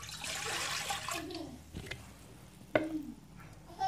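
Lukewarm water is poured into a bread mixer bowl, a faint splashing trickle with a couple of sharper splashes, heard alone at low level.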